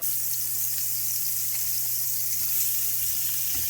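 A tablespoon of butter sizzling in a pan on a stovetop, a steady, even hiss heard close up for a few seconds with no voices.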